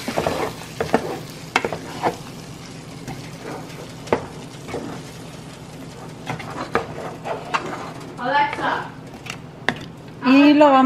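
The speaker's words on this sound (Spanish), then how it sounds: "Y acá tenemos ya las costillas ya bien doradas" Pork ribs browning in a pot for ribs in green salsa, making a low steady sizzle with scattered sharp utensil clicks and scrapes, up close, while a voice speaks briefly near the end.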